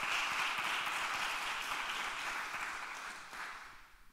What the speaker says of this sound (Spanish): Un aplauso primero para...